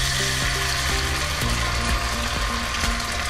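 Ghewar batter drips drop by drop into hot ghee in a mould, making a loud, dense, continuous frying roar with faint rhythmic mechanical ticking beneath and no talk.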